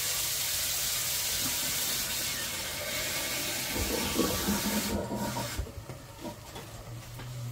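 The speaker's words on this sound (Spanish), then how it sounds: "Ya no tengo caldo, así que añadiré agua." Water poured into a pan of fried tomato while cooking, a steady rasping, sizzling rush that continues throughout, with a few clinks near the end and no talking.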